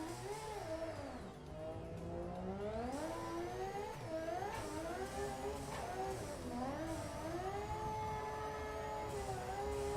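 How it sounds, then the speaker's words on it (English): Rotary-engine car in a racing video game, with a buzzing, whirring engine note that rises and falls as the revs change, steady and moderately loud throughout. "this rotary sound, I don't think it was nice."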